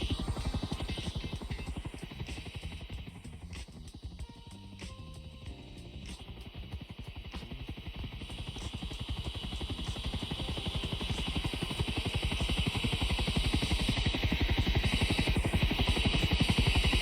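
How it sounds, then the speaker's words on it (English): A helicopter in a spy-themed puzzle video game hovers just outside, giving a steady, rapid rotor chop and buzzing drone that holds faint in the background and slowly swells slightly louder. "I can already hear the helicopter outside!"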